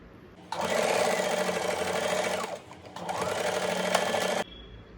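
A sewing machine stitches blouse fabric along a marked line on a deep-neck blouse, two loud continuous runs of rapid needle chatter separated by a brief pause.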